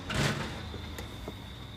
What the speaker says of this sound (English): The police lifted the garage door